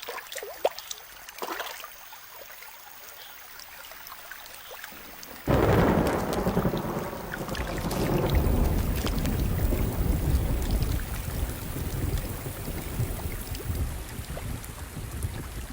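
A thunderstorm breaks after a quiet stretch with scattered drips, then a loud rumble of thunder rolls in with heavy, steady rain that continues to the end.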